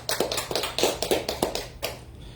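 Congregation in a church service clapping hands, a steady series of loud, close claps in uneven rhythm, fading out near the end without voices.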